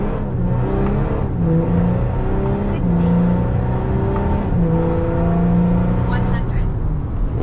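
A Volkswagen Amarok V6 pickup with a stage 2 tune pulls hard from a standstill, its engine note climbing steadily in pitch under a voice talking over it, loud and close from inside the cab.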